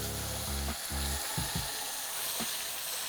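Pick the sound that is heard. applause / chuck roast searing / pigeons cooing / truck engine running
chuck roast searing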